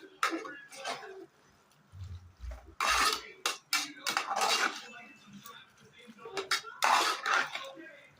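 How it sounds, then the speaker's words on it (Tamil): Squid being stirred with masala in a metal pan: a spoon scrapes and clinks against the pan in irregular bursts, close and fairly loud, with brief pauses between strokes. "இப்போது இந்த கனவா மீன் நல்லா இந்த மசாலாவோட கோட் ஆகுற மாதிரி நல்லா மிக்ஸ் பண்ணி விட்டுருணும்."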